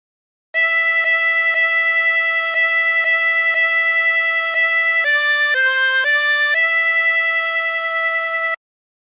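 Harmonica melody of Aura Lee played without bends, sustained reedy notes moving stepwise in a steady phrase, clear and close, alone with no talk.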